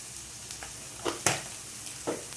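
Egg bhujia sizzles softly in a pan with pepper and chili flakes, giving a faint steady fry punctuated by a few brief scraping stirs, close and quiet.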